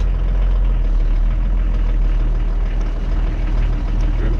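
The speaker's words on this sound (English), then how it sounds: "We've got wheels skipping there already, just in that lock, and that's testing that the wheels are trying to turn at different speeds." Pinzgauer 716 British army truck driving in differential lock with its wheels skipping, a steady loud low engine drone with faint irregular scuffing throughout, no voices.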